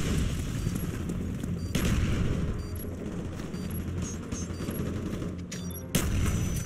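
Continuous heavy gunfire and booming blasts roll through a Call of Duty bomb-objective match, loud and dense throughout, with sharp surges near the start and end.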